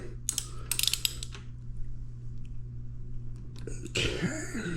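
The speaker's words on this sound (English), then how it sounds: "Using a 21 millimeter ratchet, we're going to go ahead and loosen this" A 21 mm ratchet loosening the front wheel nut on an Eahora Juliet Pro 2 e-bike gives a quick burst of clicking near the start, then a low hum and a louder rustling burst at the end.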